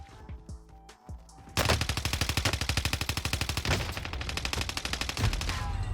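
Automatic gunfire from Call of Duty Warzone erupts after a quieter opening, a rapid sustained burst of evenly spaced shots that stays loud and continuous to the end.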